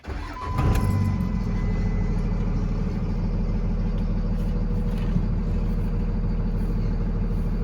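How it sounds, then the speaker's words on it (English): A truck engine cranks briefly and catches, then settles into a steady, close, rumbling idle that continues evenly without talk. "Sound of the truck starting, the engine."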